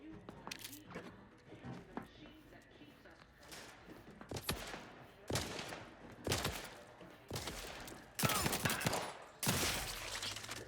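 Small pistol gunfire in The Outer Worlds 2 video game: sharp shots crack out one at a time at uneven intervals, growing louder toward the end, over quieter game sounds and faint thuds.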